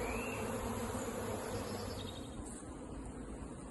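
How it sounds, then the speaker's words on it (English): Honey bees buzz steadily at a plant nursery, a dense continuous drone close by, with other outdoor ambience faint underneath and no talk. "Just checking my bees."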